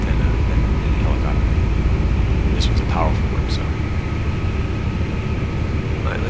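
Continuous loud roar of an EH-101 helicopter engine and rotors in Flight Simulator X, a steady dense drone that stays even throughout, with someone talking over it.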